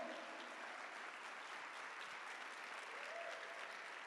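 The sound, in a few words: congregation applauding in church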